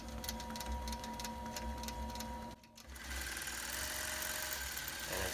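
A computerized quilting machine running Creative Studio 6.0 stitches a pattern with a fast, even mechanical whir and rapid needle rhythm. The whir pauses briefly midway, then resumes at a steady pace, close and alone.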